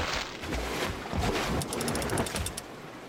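Small boat sailing across open water in the video game Salt, a steady wash of water and wind with soft sloshing swells, faint high chimes near the end.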